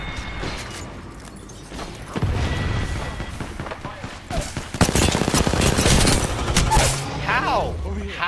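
Rapid automatic weapon fire in an Apex Legends battle, bursts of shots and a thumping explosion growing denser toward the end, with a player talking excitedly over the gunfire.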